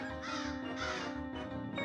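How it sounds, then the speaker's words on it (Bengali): A crow caws repeatedly in a short burst of harsh, rhythmic calls, loud and close, with no talking. "এখানে কাক কি করে ঢুকলো?"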